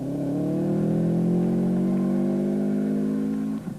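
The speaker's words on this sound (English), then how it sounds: "The raspy 2-litre Beamer engine sounded glorious" A BMW race car's raspy 2-litre engine revs hard at a Tour Natal 2004 race, holding a loud, sustained, rising howl close by for several seconds before easing off at the end.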